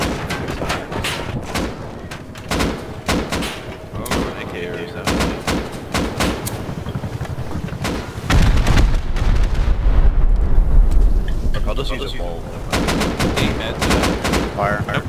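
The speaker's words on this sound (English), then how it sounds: "Who's firing with it?" Gunfire in the survival video game Rust during a helicopter fight: loud, repeated bursts of shots at an uneven rhythm, with a heavier stretch of sustained firing midway and players talking over it.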